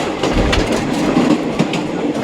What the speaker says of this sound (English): as the train gathers speed, you see a lot of twists and turns